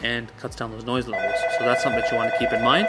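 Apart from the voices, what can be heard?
telephone ringing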